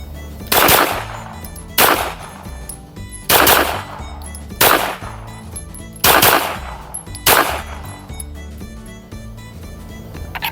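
Handgun shots at a 3-yard shooting range ring out as six loud, sharp reports at roughly even intervals, each followed by a short ringing decay, with no voices.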